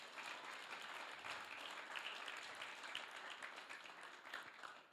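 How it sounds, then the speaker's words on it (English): A church congregation claps its hands steadily throughout, a dense wash of many hands from the crowd, fairly quiet and distant, with no voices over it. "Let's give them a hand clap just for their faithfulness."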